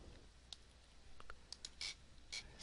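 Computer mouse clicks at a desk while working in a database search program; a handful of faint, sharp, irregular clicks in a quiet room, no talk.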